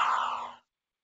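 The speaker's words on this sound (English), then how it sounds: "Phasers fire. I like the phaser fire." A single short synthetic phaser-fire zap, bright and buzzy, lasting just over half a second before cutting off into silence.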